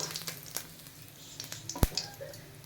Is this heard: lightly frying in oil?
yes